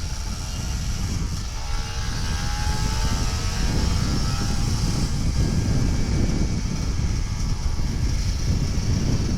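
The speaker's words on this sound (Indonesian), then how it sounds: "Nah, itulah raungan motor dua tak." A Kawasaki Ninja RR two-stroke motorcycle engine roars during a morning ride in Jakarta, a loud, steady, buzzing drone that holds unbroken for the whole stretch with no voices.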